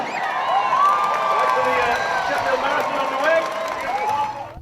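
A large crowd cheers and shouts at the start of a half marathon race, a dense, sustained roar of voices with whoops rising above it, close and loud throughout.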